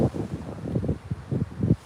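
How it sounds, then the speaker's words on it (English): Gusty outdoor wind at Crystal Lake buffets the microphone in low, rumbling surges that rise and fall over a couple of seconds, close and loud, with no voices. "It's really windy, guys."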